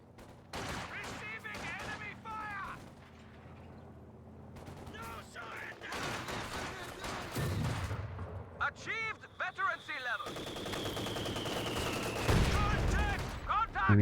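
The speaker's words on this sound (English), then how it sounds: "And he's shooting." Sustained fusillade of small-arms fire and distant artillery in the wartime strategy game Company of Heroes, dense cracking shots and rumbling booms throughout, with a rising whistle midway, under steady commentator speech.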